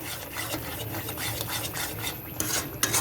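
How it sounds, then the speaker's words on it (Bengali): Lentil masala being stirred in oil in a pan: continuous rasping scrapes of a spatula against the pan bottom in an uneven back-and-forth rhythm, close by with no talk. "এটা আর একটু নাড়াচাড়া করবো আমরা, আর একটু ভালোভাবে মিক্স করে নিব তেলটার সাথে"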